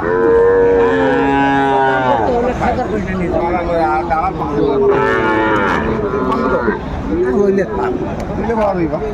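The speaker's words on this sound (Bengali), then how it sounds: "বেশ উন্নত মানের গরুগুলা যেখানে বেচা কেনা হচ্ছে, আমরা সে জায়গায় রয়েছি।" Sahiwal cattle at a livestock market low loudly and close, with several long drawn-out moos in succession over a busy background of crowd chatter.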